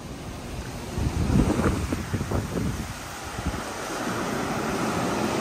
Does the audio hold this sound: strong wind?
yes